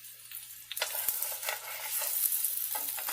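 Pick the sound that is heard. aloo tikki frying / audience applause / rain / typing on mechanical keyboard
aloo tikki frying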